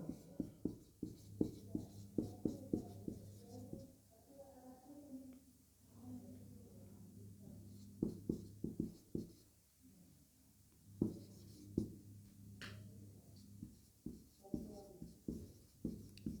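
Chalk or marker tapping and scratching on a classroom board as a chemistry definition is written out, a run of short, close strokes with pauses between them.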